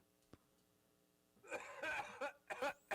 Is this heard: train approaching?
no